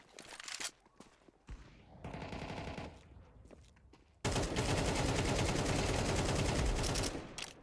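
Automatic AK-47 fire in a Counter-Strike 2 deathmatch: a short burst early, a sustained rattling volley mid-clip, then a loud, continuous stretch of rapid gunfire filling the last half, with no talk.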